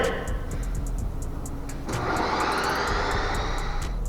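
An ice cream machine spins frozen banana, blackberry and protein ice cream, giving a steady motor whir that swells into a louder, rougher churning grind partway through, close and continuous with no talk.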